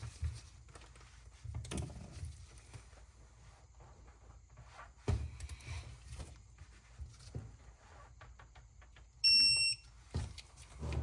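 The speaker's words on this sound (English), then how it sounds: "Once you hear that beautiful beep, check your torque." A short, bright electronic beep from a torque wrench sounds once near the end, amid faint clanks, shuffling and handling noises from close by, while torquing bolts on a Ford 6.0 Powerstroke engine.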